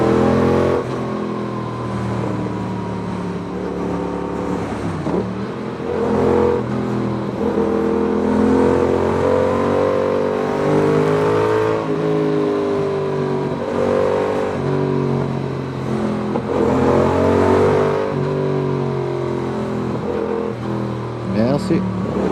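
A 2019 Yamaha XSR 700 motorcycle filters through traffic jams, its engine droning close with rising and falling revs under a rider talking and wind rushing past.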